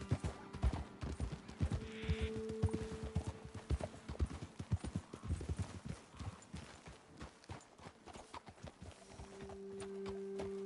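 Horses' hooves clip-clop steadily in Red Dead Redemption 2 as riders move through rough terrain, an irregular clatter of strikes up close with a brief low tonal hum in the background near the start and end.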